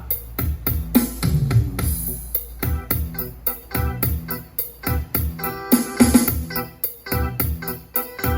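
A drum kit plays a steady groove alone: punchy kick and snare hits with cymbal splashes in a regular rhythm, no other instruments.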